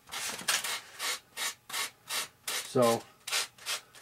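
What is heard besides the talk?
sanding paint off RC airplane with sandpaper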